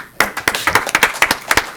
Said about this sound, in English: Big round of applause right here.